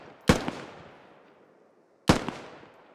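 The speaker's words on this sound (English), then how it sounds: "Random shots coming in." Two sharp, loud gunshots from a military video game ring out about two seconds apart, each cracking hard and then trailing off in a long echoing decay, with no talking.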